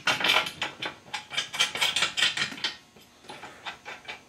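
Metal bolt being tightened on a John Deere mounting bracket with a wrench, giving a quick run of close, bright clicking and ratcheting strokes, a short pause, then a few more turns.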